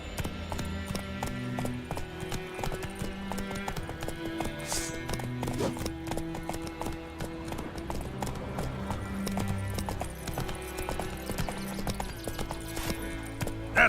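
Hooves of the horse Roach clip-clopping at a steady trot in The Witcher 3, a continuous near rhythm running under a busy bed of game music and ambience, with occasional horse snorts.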